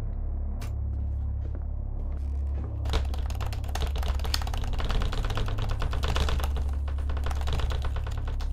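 Fast, frantic keyboard button mashing while playing the horror game Paper Cages: dense clattering keystrokes start after a few seconds and keep going over a steady low hum, with no talking.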